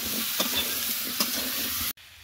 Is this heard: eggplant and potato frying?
yes